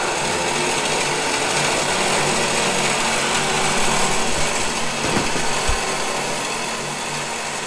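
An off-road wrecker's lift winch runs out rope with a continuous high-pitched mechanical whine and grinding hum, steady and close, with a couple of brief knocks near the end.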